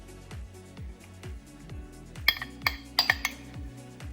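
Spoon scraping and clinking in a bowl while canned oyster mixture with jalapenos and onions is stirred, a soft rhythmic swirl joined by several bright metallic taps.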